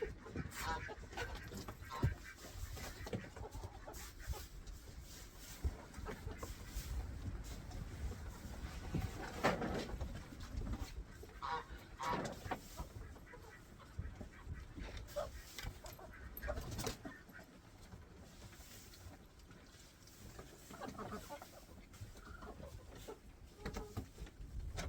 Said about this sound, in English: Poultry are so chaotic.